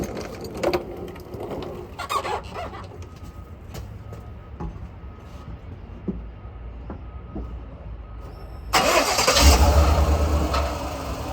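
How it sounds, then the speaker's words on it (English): A GMC Sierra pickup with an EVAP vent solenoid circuit fault cranks with a few faint clicks and ticks, then the engine catches and settles into a loud, steady idle near the end, with birds faintly audible. "let me go back out there and start the truck again"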